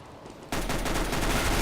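Gunfire in the shooter game CS:GO erupts abruptly after a quiet half second, a dense, loud, continuous barrage of shots with no speech.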